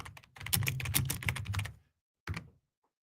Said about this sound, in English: that's the last time I'm gonna type